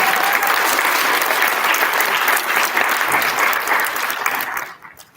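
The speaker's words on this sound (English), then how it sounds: "Nice big round of applause." A big round of applause rises from the audience at an elementary school student recognition ceremony, dense sustained clapping that carries for several seconds before tapering off at the end.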